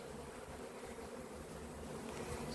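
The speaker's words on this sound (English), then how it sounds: "there's lots of bees now clustering in that back corner" Honey bees drone steadily in a hive built inside a cupboard, a continuous low buzzing swarm clustered close by with no voices.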